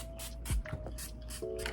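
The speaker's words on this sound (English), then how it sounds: "And you're just gonna spray and spray and spray and spray." A Cream Shop Hello Kitty setting spray is misted in several short, close hisses in a regular rhythm, with a few soft handling sounds in between.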